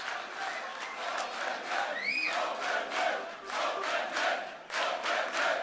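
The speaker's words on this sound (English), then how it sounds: "Fake applause is the most important one in my taste." Fake applause sound effect of a crowd, a steady roar of cheering and clapping with a brief rising whistle partway through, loud and continuous for the whole stretch.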